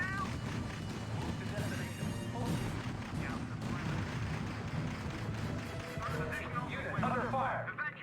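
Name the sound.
artillery and gunfire in video game R.U.S.E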